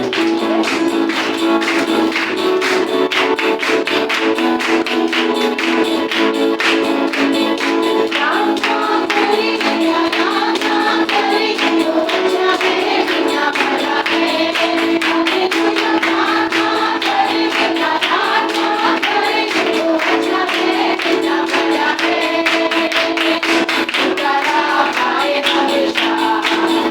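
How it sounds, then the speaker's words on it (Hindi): A worship congregation claps in a steady, continuous rhythm, with many hands forming a dense, loud wash that holds unbroken throughout, with music underneath. "ऊंचे स्वर में ताली बजाते हुए परमेश्वर की महिमा करें"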